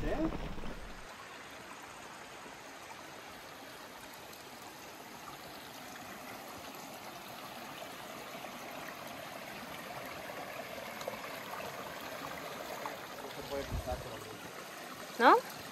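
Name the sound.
mountain torrent stream flowing in Mallorca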